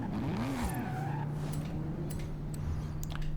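Car driving in the racing game Forza Horizon, with a steady engine drone that swoops in pitch early on, then holds a constant tone. Light tire noise and a few faint clicks sit over it, and no one speaks.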